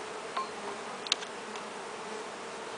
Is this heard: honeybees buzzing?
yes